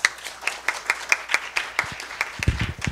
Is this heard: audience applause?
yes